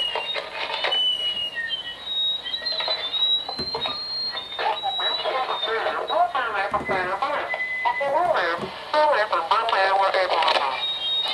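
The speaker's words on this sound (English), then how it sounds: "I'm going to turn my scanner on and I'm going to tell it to scan the frequencies from 900 to 925 and see when I can pick up this phone" A RadioShack radio scanner sweeping 900 to 925 MHz picks up a cordless phone, giving crackly, tinny radio chatter with electronic chirps and tones, with speech throughout.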